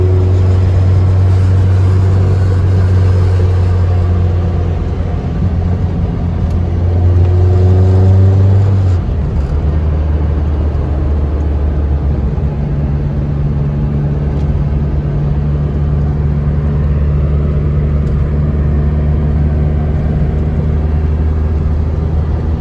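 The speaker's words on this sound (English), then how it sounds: "maybe we'll do a little clip of him pulling it through the gears now" A Honda K24-swapped Toyota MR2 Spyder pulls through the gears on the road, a loud steady engine rumble with rising revs, a sharp drop at a shift partway through, then a lower sustained pull.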